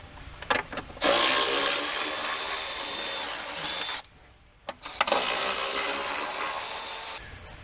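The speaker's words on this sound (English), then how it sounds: "take an 8mm socket and get all of our intake bolts loose" An 8mm socket on a power driver spinning loose the intake manifold bolts of a Jeep Cherokee with a 3.2/3.6 Pentastar engine: loud, steady whirring bursts of several seconds each, separated by short pauses, with no talk.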